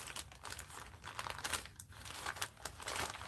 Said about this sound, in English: Pulling out a packaging there.